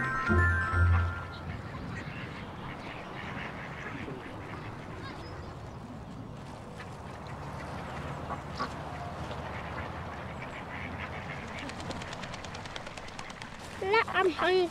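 Ducklings quacking in a cartoon scene, bursts of quacks at the start and end with a voice talking over music and background sound in between.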